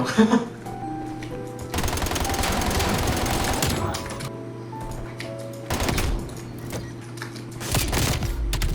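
Automatic AMP63 pistol fire, dual-wielded in the shooter game Call of Duty: Black Ops Cold War, comes as rapid rattling bursts with a long sustained volley in the middle and shorter bursts after, loud over a game soundscape.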